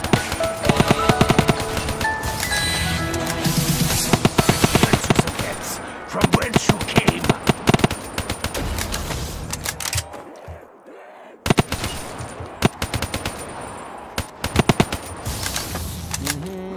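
Rapid automatic gunfire bursts from guns in Black Ops 3 custom zombies on a Pokemon-themed map, loud and dense. The volleys come in long rattling strings with brief gaps, dropping away for about a second midway before resuming.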